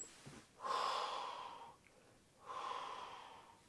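Slow, controlled breathing, taken gently without straining the neck or abdominal muscles. Two long, soft, airy breaths come close to the listener with quiet pauses between them, and no one speaks.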